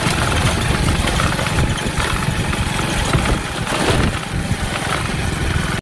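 A tractor engine runs steadily and close by, a continuous mid-low rumble that holds level the whole time, with no voices over it.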